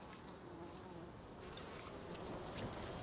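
Angry bees from hives buzz in Ghost of Tsushima on Iki Island, a dense, continuous droning swarm that swells slightly louder partway through, with no talk over it.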